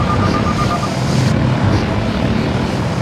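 A helicopter from the video game Body Harvest gives off a steady, loud engine and rotor drone that holds even for the whole stretch.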